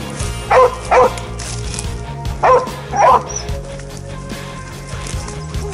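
Hunting dogs bark close by during a goat cull, two pairs of sharp, loud barks separated by a short pause over an outdoor background.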